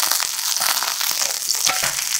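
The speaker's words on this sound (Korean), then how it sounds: "앞뒤로 노릇노릇하게 부쳐내고 식용유가 부족하면 더해줍니다." Cockle batter pan-frying in plenty of hot cooking oil, a dense continuous crackle and spatter with sharp pops, steady and close, with no talking.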